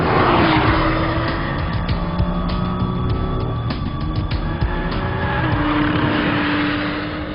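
A Bugatti Chiron driven hard through corners, its engine droning loud and steady with shifting pitch and wind roar as it carries speed through the bends.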